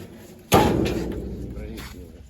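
A door slams shut once with a loud, sharp bang, and a short low rumble trails off after it. The setting is a rural homestead yard during a cold snap.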